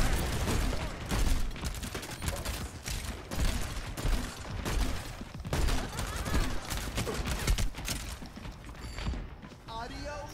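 Overwatch match gunfire rattles in dense, rapid bursts almost without pause, with mechanical clanks and game effects layered in and a voice talking partway through.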